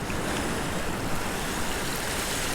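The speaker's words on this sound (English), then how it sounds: "look how the waves are crashing there over the wall" Sea waves crash over a harbour wall at Honfleur in a steady, loud roar of surf and spray, with wind buffeting the microphone and no pauses.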